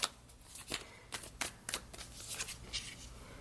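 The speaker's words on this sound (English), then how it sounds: "I'm actually going to pull another card down here, just because." Tarot cards shuffled and handled in a quiet room, a series of crisp riffling bursts and soft slaps at an irregular pace, close and fairly faint.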